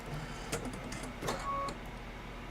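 An embroidery machine stitches a small clover design with quiet mechanical whirring, faint needle ticks and a few brief motor whines, all at low level with no speech.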